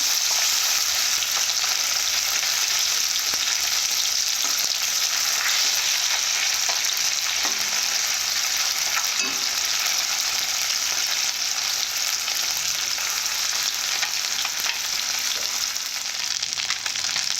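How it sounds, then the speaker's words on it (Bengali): Bata fish frying in oil in a wok, a steady, close hiss and crackle of sizzling that runs unbroken throughout, with a few faint clinks of a utensil. "মাছগুলো ভাজা হয়ে গেছে তুলে নেব"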